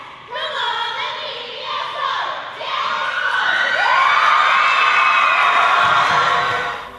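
A school pep rally crowd, many children among them, cheers for a teacher named Golden Apple Teacher of the Month. Loud, sustained shouting, whooping and cheering swells and holds for several seconds, close and dense.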